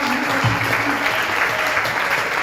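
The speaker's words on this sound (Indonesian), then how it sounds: "Boleh tepuk tangan yang meriah." A church congregation at a Sunday collaborative worship service claps in a loud, dense burst of applause that holds steady across the short clip.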